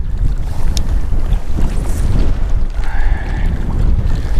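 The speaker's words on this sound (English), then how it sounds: "I've never been out here when it's been this windy." Strong gusty wind roars across open water while bass fishing, buffeting the microphone with a constant low rumble and splashing, no voices.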